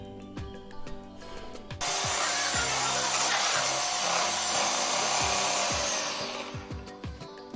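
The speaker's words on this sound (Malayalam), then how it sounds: "ഹൈയിലേക്ക് മെല്ലെ മെല്ലെ ആക്കിയിട്ട് ഓരോരോ സ്റ്റെപ്പായിട്ട് സ്പീഡ് കൂട്ടിയിട്ട് നല്ലപോലെ ഒന്ന് ബീറ്റ് ചെയ്തെടുക്കുക" An electric beater whips cream in a bowl, starting with clicking, rattling handling noises before a steady, loud whirring roar takes over for several seconds and then tapers off as the speed changes.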